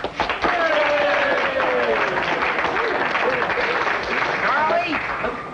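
A crowd at a bowling alley applauds and cheers in a steady, loud wash of clapping, with voices talking and calling out over it.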